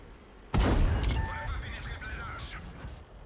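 A heavy cannon blast from a Lorraine 40t tank in World of Tanks hits suddenly, a deep boom with a long rumbling tail, followed by softer game effects and chimes.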